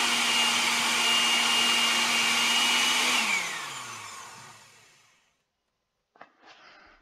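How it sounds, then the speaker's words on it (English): A Minecraft furniture mod blender whirs loudly as it blends orange slices, a steady motor drone that winds down over a couple of seconds into silence, followed by a short clink of game sound. "you can actually blend the orange slices"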